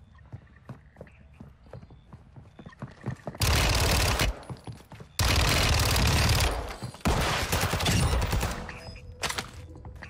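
Fennec submachine gun hip-fired in a video game, heard as several loud sustained bursts of rapid automatic fire separated by short gaps, over quieter game noise.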